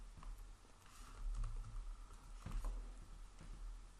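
Steady patter of typing on a computer keyboard while entering column index numbers into an Excel spreadsheet, light irregular key clicks running throughout at close range with no talk.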